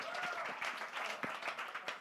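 A small audience at an entrepreneurs' panel event claps in a brief, steady patter, with a voice talking over the clapping.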